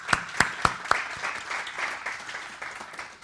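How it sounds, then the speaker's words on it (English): A conference audience applauds its volunteers: a few sharp, separate claps open the clip, then a thinner, scattered patter of applause lingers at moderate volume in a hall. "let's give a round of applause for volunteers"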